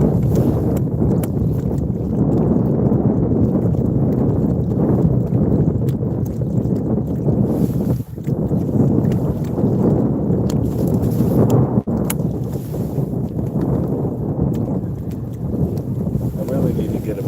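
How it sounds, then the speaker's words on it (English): Strong wind blasting across a bridge while out fishing from a boat, a constant loud rushing roar of buffeting noise on the microphone with occasional gust thumps; no one talks. "it's like a wind tunnel. Like the amount of that's pushing at my back right now."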